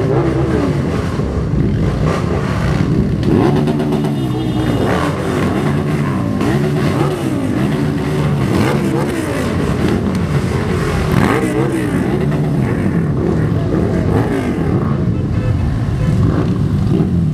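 Hundreds of motorcycles riding along the A7 motorway in the Netherlands, a loud, continuous mass of revving engines rising and falling as bikes pass close by, with scattered voices underneath.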